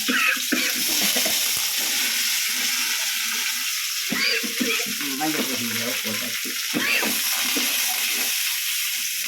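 Curry leaves and chunks of yellow pumpkin hit a hot pan of oil with dried chillies for a pumpkin kootu, giving a steady close sizzle and frying crackle throughout, with a voice speaking briefly over it.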